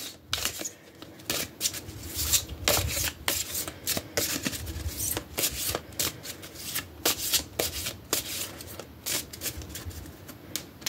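Oracle cards being shuffled by hand, a close series of rapid riffling and rubbing bursts in an irregular rhythm, with no speech.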